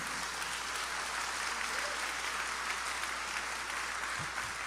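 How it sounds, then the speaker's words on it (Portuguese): Church audience applauding during a sermon, a steady dense wash of clapping filling the room, moderately distant and even throughout, with no talk over it. "Pode aplaudir ao Senhor por isso."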